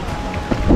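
Loud, blustery wind buffeting the microphone at a lake in Laguna, Philippines, a dense low roar with a gust swelling near the end.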